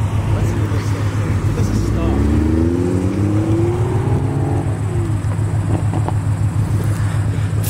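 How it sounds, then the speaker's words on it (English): 2021 Toyota Supra engine and exhaust holding a steady low drone with a rising, whirring rev swell in the middle, close and loud throughout, with no talking. "The car sounds like a vacuum cleaner with a burble tune."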